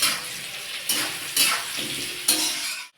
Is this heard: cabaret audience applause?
no